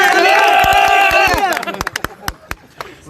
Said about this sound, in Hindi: चलो तालियां